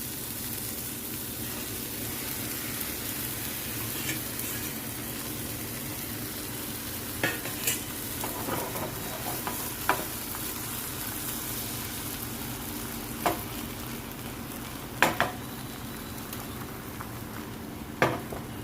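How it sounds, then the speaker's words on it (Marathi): Beaten egg with spinach and salt, poured into a hot pan for a paneer omelette, sizzles in a steady, fairly quiet hiss, broken by a few sharp clicks and taps of a utensil against the pan. "आता हे जे फेटून घेतलेले आता आपण टाकून घेऊया"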